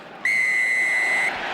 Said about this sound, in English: that's after the whistle's gone